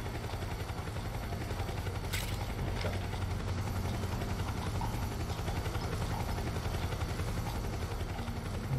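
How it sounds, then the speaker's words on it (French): A helicopter from the video game Metal Gear Solid 4 hovers as a continuous low droning engine hum, steady and moderately faint, with a couple of sharp distant cracks. "on a passé la zone de l'hélicoptère"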